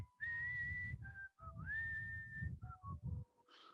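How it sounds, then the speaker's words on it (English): A single person whistles the simple film theme melody for the character Momo, a clear, close solo tune of sustained and short notes with small pauses, breathy between phrases. "So the theme for Momo is whistle, and it's very easy."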